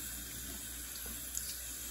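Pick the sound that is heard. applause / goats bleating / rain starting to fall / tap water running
tap water running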